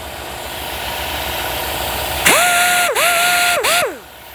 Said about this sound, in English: See, we got the compressor on.